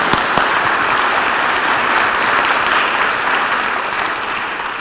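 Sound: audience applause after a talk

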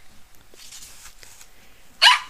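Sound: puppy barking

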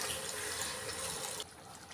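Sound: water being poured into a cooking pot

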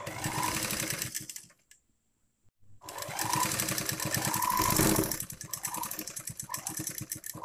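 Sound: sewing machine stitching a pillow cover

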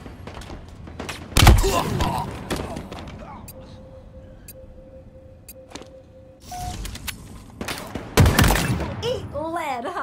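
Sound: gunfire in the video game Halo Infinite

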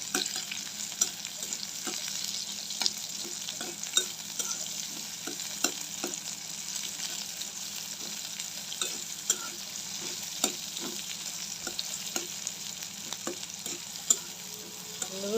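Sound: green chillies and onion frying in hot oil

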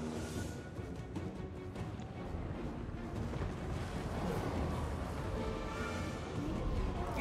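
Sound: gunfire and artillery in a video game battle

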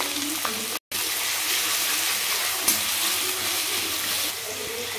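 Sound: onions added to hot oil in a kadhai, sizzling

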